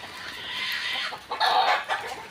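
A white kelso cross Boston gamefowl rooster clucking at a small gamefowl farm, giving several close, fairly loud throaty clucks with brief pauses between them.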